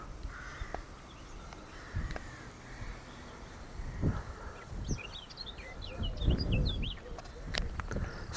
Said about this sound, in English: Songbirds.